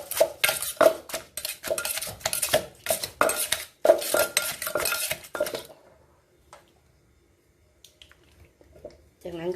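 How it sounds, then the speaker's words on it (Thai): Tomatoes get pounded in a mortar for som tam with crab and pla ra, a rapid run of sharp, close pestle thumps and wet squishes that stops halfway, then a few faint knocks and a voice. "ตำก่อนให้น้ำมะเขือเทศออกก่อนนะคะ"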